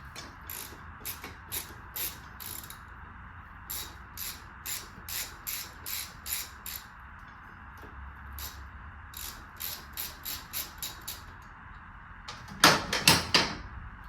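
A ratchet with an extension clicks in quick repeated bursts while removing bolts from the front wheel of a Harley FXSB motorcycle, close and crisp, ending in a few louder metallic clanks.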